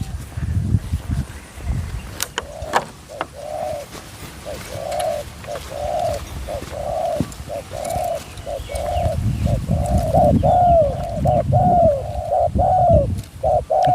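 A spotted dove coos in a steady series of close, loud paired calls, repeating every second or so over an outdoor background with occasional rustling and knocks.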